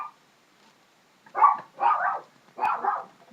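A pet dog barks three times in quick succession indoors, fairly close and clear, after a moment of near silence in a home kitchen.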